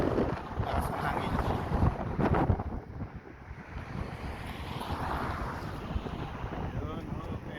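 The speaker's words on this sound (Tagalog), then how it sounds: "Lakas ng hangin." Strong wind roars and buffets across the microphone beside a highway, a loud, continuous rushing that swells and eases, with a voice speaking briefly under it.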